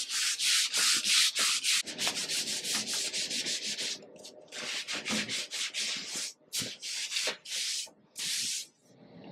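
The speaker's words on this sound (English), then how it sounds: "I'm just going to take a little sanding sponge" A 220-grit sanding sponge rubs over the primed surface of an antique dresser, making loud, close, rhythmic scratchy strokes in quick bursts with short pauses between them.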